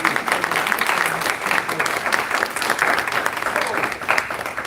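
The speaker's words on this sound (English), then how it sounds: "Let's give all of our panelists a round of applause." Steady applause from an audience for a panel discussion's panelists fills the whole stretch, dense clapping that stays even without breaking off.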